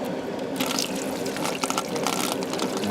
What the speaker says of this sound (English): then you pour your wort back onto that